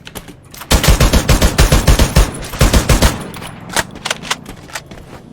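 Video game gunfire: a loud, close automatic burst of rapid machine-gun shots for about two seconds, followed by scattered single shots and sparser bursts.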